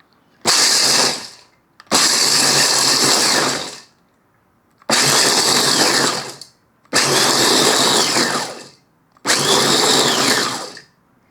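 An electric kitchen chopper grinds roasted, peeled peanuts at low speed, whirring loudly in five separate bursts of about one to two seconds each, with short silent pauses between them.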